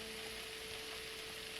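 Chopped bacon frying in a pan, giving a steady, dense sizzle with a constant crackling hiss throughout, close and unbroken with no talking.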